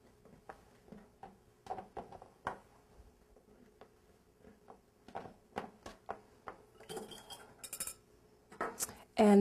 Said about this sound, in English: take your eggplant slices and lay them on a baking sheet